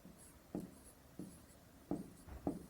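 Writing on a board during a wave optics lecture, with four short, soft scratching strokes spaced unevenly in a quiet room.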